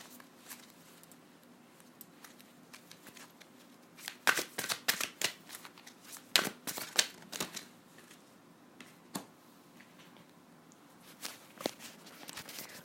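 Tarot cards being shuffled, drawn and laid down during a reading, a soft papery rustle with clustered sharp snaps and flicks in bursts, close and fairly quiet, with no talking.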